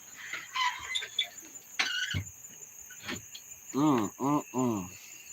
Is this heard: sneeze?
no